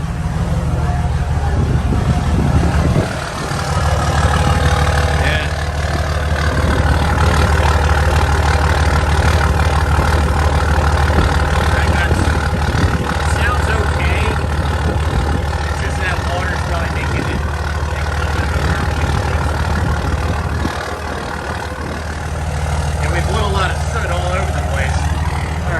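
A flood-damaged 5.9 diesel truck engine idles with a deep, steady rumble nearby, burning water out of the exhaust, while people talk over it at times.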